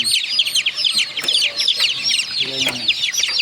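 Chicks and chickens in a poultry house during debeaking, a dense chorus of high peeping chirps and clucks that runs without pause, close and fairly loud, with a brief low voice underneath.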